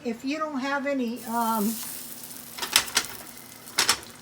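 Instant potato cakes fry in a pan with a soft sizzle and scattered crackles and scrapes. Someone speaks first, and the frying continues quietly after she stops.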